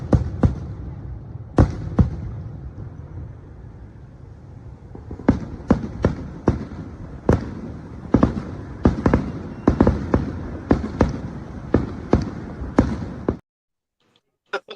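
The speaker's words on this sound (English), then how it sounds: "That's the fireworks for you, man." Fireworks played as a sound effect: a long run of sharp, loud bangs and cracks at irregular intervals, some spaced apart and others in quick clusters, over a rumbling wash that cuts off into near silence.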